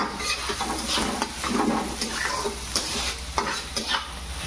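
Onions stirred and fried in a pan with curry leaves for a bread pakoda filling, a steady close sizzle broken by repeated scraping stirs against the pan.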